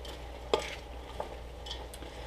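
Chopped onions, celery, carrots and green and red peppers stirred in a pan for spaghetti sauce, with a soft sizzle underneath and a couple of distinct scrapes of the spoon against the pan, no talking.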